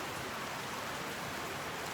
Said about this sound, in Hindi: यकीन माने बारिश हो रही है